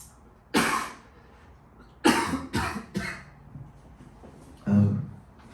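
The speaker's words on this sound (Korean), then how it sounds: "말하다 보면 이게 또 간질간질 건드려가지고 계속 기침나" A person coughs in several sharp, separate bursts: a single cough, then a quick cluster of three, then a lower, rougher one after a pause, close and clear with no talking.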